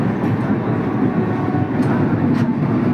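The Ashokapuram Express rolls past on the line into Chennai Central, a close, continuous rumble of wheels and carriages with a steady rhythmic clatter.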